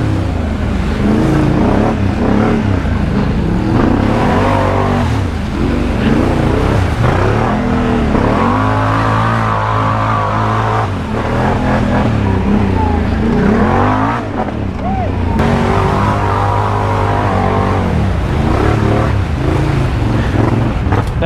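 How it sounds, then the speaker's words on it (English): A four-wheeler ATV engine roars loud and close, its pitch sweeping up and down as it revs and shifts under heavy wind buffeting on the microphone. The engine noise runs unbroken, with no clear talk over it. "I love this four-wheeler."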